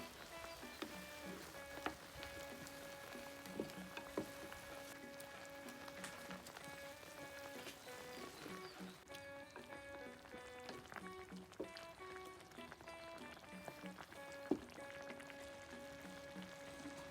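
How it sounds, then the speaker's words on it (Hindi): Chicken karahi in desi ghee bubbling hard in a frying pan, giving a steady close crackle and patter of boiling liquid like light rain, continuing alone without talk. "बहुत बहुत ज़बरदस्त किस्म का इसको जोश आ चुका है।"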